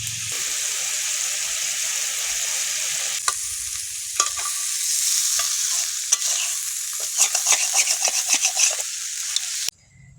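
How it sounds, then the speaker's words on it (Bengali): Bottle gourd frying in a pan with cumin and chili water, a steady loud sizzle with scraping stirring strokes throughout, quickening into rapid clatters near the end before cutting off. "আজকে লাউ ভাজা করেছি।"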